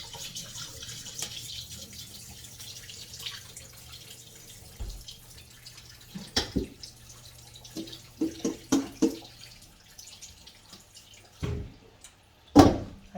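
Water drains from washed rice poured into a drainer while jollof rice is prepared, making a soft trickle with scattered drips and a few sharp clunks and splashes near the end. No one talks.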